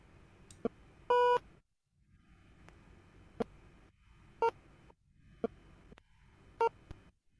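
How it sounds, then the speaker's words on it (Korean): In a ball video game, a harsh dissonant beep sounds when the ball is missed. It is one longer buzzy tone among shorter, softer blips from the ball striking, all faint and electronic with no one talking. "놓치면 띠 하고 이렇게 불협화음이 발생하죠"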